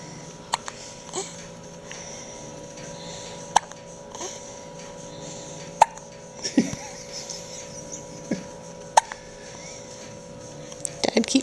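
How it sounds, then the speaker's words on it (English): A young child's loud hiccups ring out at uneven intervals, sharp and close to the microphone, with faint adult chatter and soft background noise between them. "Oh, it's big hiccups."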